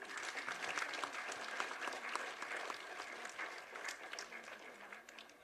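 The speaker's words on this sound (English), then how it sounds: "Let's have a big round of applause again." Steady applause from an audience, a dense patter of many hands clapping continuously at moderate loudness with no talking.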